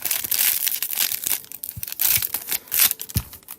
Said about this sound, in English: Quick with the scissors.